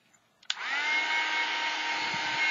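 A handheld hair dryer drying a painted art journal page: a couple of small clicks, then the dryer switches on close by and blows a loud, steady whooshing whir through to the end, with no talking.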